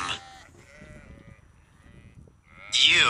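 A loud, close lamb bleat breaks in near the end after a quieter stretch of faint, wavering bleating.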